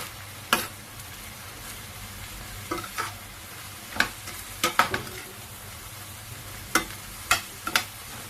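A mung bean dish with shrimp and pechay sizzles softly in a pan while a utensil stirs it, giving scattered sharp scraping clicks over a faint steady frying hiss, with no talking.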